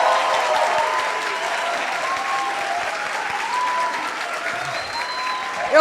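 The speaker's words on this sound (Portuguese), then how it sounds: "pedir um aplauso" Steady, full applause from an audience honoring a camera operator at a communications event, continuous and close throughout.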